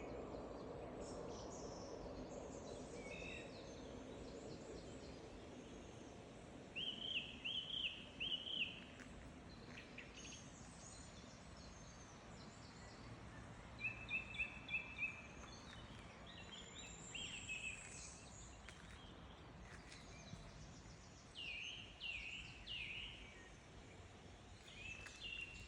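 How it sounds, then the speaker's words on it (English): Birds chirp in the morning, with short clusters of high bright calls repeating at intervals over a faint, steady outdoor background hum. "the birds chirping."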